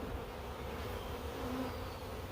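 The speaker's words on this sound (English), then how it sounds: "Try to get as many bees out so I know she's gonna" A honey bee swarm gives a faint, continuous buzzing drone that stays even throughout, with no voices.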